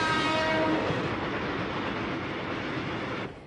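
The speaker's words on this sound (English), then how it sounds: "Do you have to ride on this kind of train every day?" Commuter train in Japan running along the tracks, a loud continuous roar with a brief horn tone near the start, fading slightly before cutting off abruptly.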